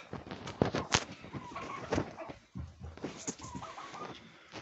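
Turkeys in a pen give clucks and short nasal calls, some overlapping, at close to middle distance amid steady barnyard noise.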